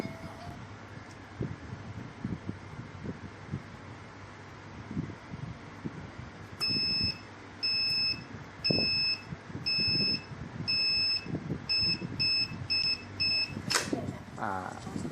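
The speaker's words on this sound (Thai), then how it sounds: "กลางจะมีเสียง ดัง ปี๊ดปี๊ด แล้วก็ปี๊ดที่สอง" A small vacuum sealer hums with rustling handling noise, then gives a series of short, high electronic beeps in a steady pattern, with speech in the background.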